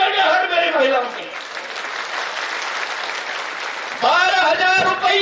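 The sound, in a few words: thunderous applause from women at a political rally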